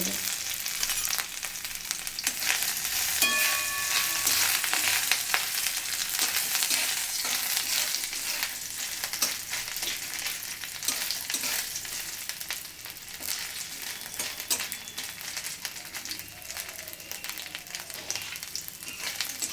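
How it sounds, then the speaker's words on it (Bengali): Coconut pieces frying in hot oil in a kadai for vegetarian banana-flower chops, a soft, continuous crackling sizzle with occasional stirring scrapes, fairly quiet and steady. "তেল গরম হয়ে গেছে নারকেলগুলোকে এবার আমি একটু ভেজে"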